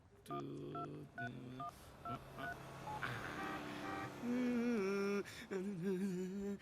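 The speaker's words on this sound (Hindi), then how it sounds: "अभी फोन लगाता हूँ उसको, देख।" A telephone number is dialed, with a rapid series of distinct keypad tones, followed by a longer wavering ring tone, all clear and up close.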